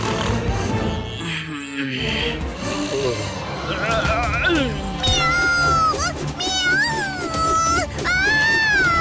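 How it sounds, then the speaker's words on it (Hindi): A cartoon cat meows repeatedly in rising, wavering cries, loud and close, over busy soundtrack music and effects, with voices speaking around it. "यहाँ बिल्ली है।"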